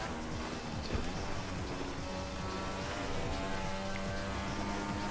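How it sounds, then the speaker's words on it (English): Simulated rain from the racing game Assetto Corsa hisses steadily and evenly under a low engine drone, with no voices. "it doesn't feel like there's rain. It's just making the sounds like as if there is."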